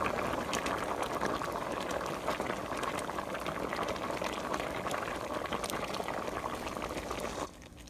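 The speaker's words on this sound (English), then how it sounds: "So this is gonna simmer like this for about 10 minutes." A pot of one-pot lasagna with diced tomatoes and garlic bubbles at a steady, dense simmer, close and constant for most of the stretch before dropping abruptly to quiet near the end.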